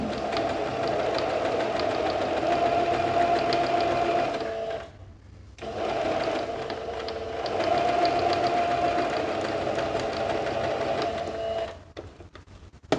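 A sewing machine stitches a support seam along the edge of fabric, running loud and close in a steady whirring drone for several seconds, pausing briefly, then running again before stopping with a few clicks.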